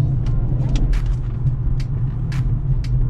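A Mercedes-Benz C55 AMG on a test drive gives a steady low rolling hum of tyre noise, continuous and fairly loud, with faint higher swishes and no talking.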